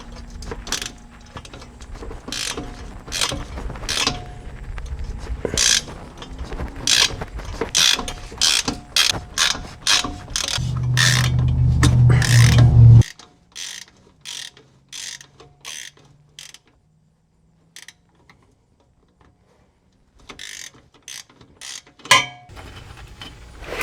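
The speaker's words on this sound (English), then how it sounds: "we can throw this on the end of a ratchet" A ratchet is turned while working on a 1968 Ford Mustang convertible, producing close, rapid metallic clicking in repeated bursts, then a near-silent pause and a few more clicks.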